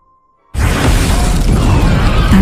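A large explosion erupts in a dark film scene after a flare is lit near a hole in a wall, bursting in suddenly after near silence and holding as a loud, sustained roar with debris.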